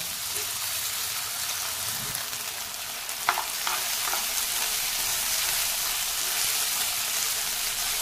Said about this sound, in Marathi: मुगाची डाळ आपल्याला थोडी लालसर रंगावर परतून घ्यायची आहे।